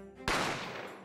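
A single sharp gunshot effect from The Great Ace Attorney Chronicles cracks out loud and close, then decays over a moment after a soft musical tone.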